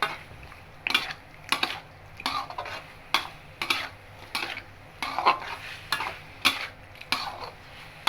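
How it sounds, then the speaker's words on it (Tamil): Repeated scraping and clinking of a spoon stirring pepper chicken in a metal pan, roughly one stroke per second in a steady rhythm, close and moderately loud over a faint sizzle, with no voices. "இப்போ நம்ம கிண்டுவோம்"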